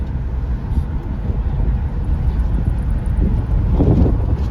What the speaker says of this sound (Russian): Ветер уже сильнее.